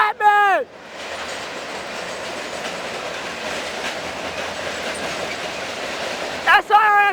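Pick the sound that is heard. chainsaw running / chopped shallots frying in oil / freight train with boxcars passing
freight train with boxcars passing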